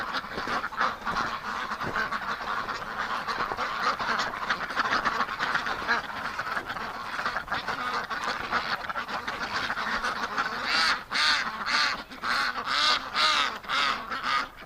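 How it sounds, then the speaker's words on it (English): A flock of ducks quacks and honks continuously on a farm property in winter, a busy, overlapping chorus close by that grows denser toward the end. "There's a lot of pretty ducks, guys."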